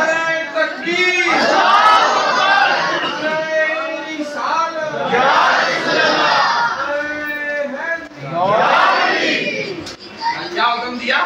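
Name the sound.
crowd chanting takbir in response at a religious gathering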